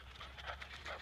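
A dog named Daisy pants quietly as it arrives, a short burst of soft, rapid breaths at close range with no talking.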